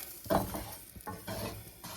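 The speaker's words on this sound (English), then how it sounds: "I like to stir it a little bit and take up that nice hamburger grease" Flour is stirred into sizzling hamburger grease in a frying pan, with a loud scrape of the spoon, then steady crackling frying and a few more softer stirring strokes.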